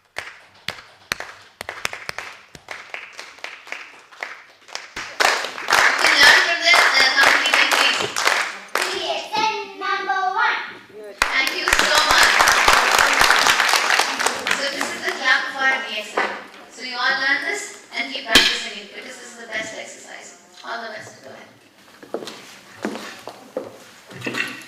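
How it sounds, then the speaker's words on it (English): Women at a DXN ladies training camp in Dubai clap together in bursts of rapid hand claps, loud and close, with a presenter speaking between and over the rounds. "Yes, start clapping them."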